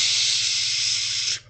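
A voice imitates Axe body spray being sprayed from head to toe, a single loud, steady hiss of about 1.3 seconds that cuts off sharply.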